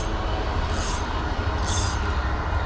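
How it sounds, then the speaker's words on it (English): Passing trains on a railway near a riverbank fishing spot, a steady loud rolling rumble with faint metallic wheel squeals rising twice above the roar. "Oh, there's the trains today."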